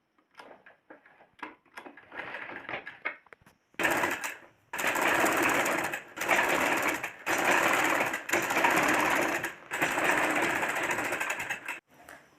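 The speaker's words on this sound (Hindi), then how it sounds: "अब हम इसमें सिलाई लगा देंगे" A sewing machine stitching a kurta sleeve turned inside out. A few short, quiet stuttering bursts come first, then loud, steady runs of stitching separated by brief pauses.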